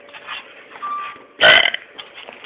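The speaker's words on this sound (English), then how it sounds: "I need a burp." One loud, close burp erupts midway, standing out clearly against faint background sounds.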